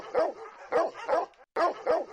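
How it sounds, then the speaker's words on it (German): Dogs bark in short, sharp bursts, five or so in an uneven rhythm with a brief gap, fairly close and clear against a quiet background. "Personen mit dieser Art von Hörverlust können tiefe Töne wie das Bellen von Hunden gut hören"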